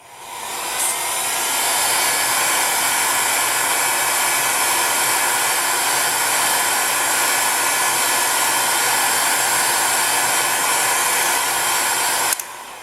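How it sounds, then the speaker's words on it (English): A heat gun blows steadily while curing polymer clay, a loud continuous whooshing roar that starts up near the beginning and cuts off just before the end, with no talk. "if you press on it and you can still feel that it is moving, you're going to need to heat gun it a bit more"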